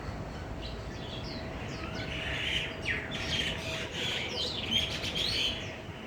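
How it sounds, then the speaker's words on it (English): A large mixed flock of birds chirps, tweets and squawks around a bird tower, with overlapping calls of several kinds coming and going steadily at moderate distance. "You can see here a lot of birds,"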